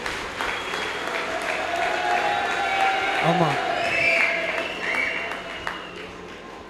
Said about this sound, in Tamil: நல்லவருக்கு ஒரு கைத்தட்டு தட்டுங்க.